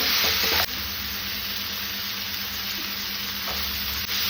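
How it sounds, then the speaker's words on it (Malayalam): Tomato and curry leaves hit a frying pan of onion, ginger and garlic, setting off a loud steady hiss that carries on evenly, with a couple of brief clicks and no voices. "ഇനി തക്കാളി ഇടാം. കറിവേപ്പില ഇടട്ടെ."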